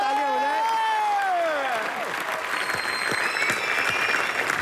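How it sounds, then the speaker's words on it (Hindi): A studio audience at a televised comedy show claps loudly, with a gliding whooping tone over it at first, then steady applause continuing to the end of the short burst. "इनके लिए जोरदार तालियां हो जाए।"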